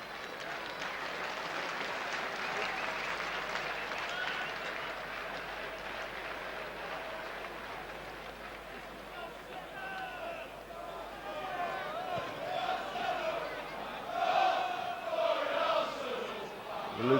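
Travelling Spurs supporters in a Premier League stadium at Norwich City versus Tottenham Hotspur raise a broad, continuous crowd roar and cheering, swelling near the end, heard under a commentator's steady talk.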